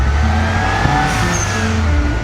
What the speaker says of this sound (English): Just a cool looking dude blasting his Porsche around some mountains while trying to avoid some sheep.